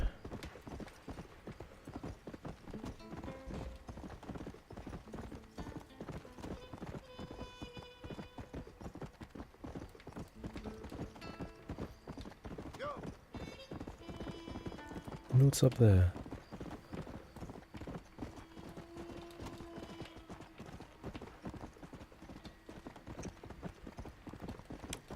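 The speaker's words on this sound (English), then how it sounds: "Horse is getting a little bit tired." Horse hooves clip-clop steadily and rhythmically in Red Dead Redemption, a continuous quick gallop of close, clear hoofbeats lasting throughout, with soft-spoken talking over it and a brief louder burst midway.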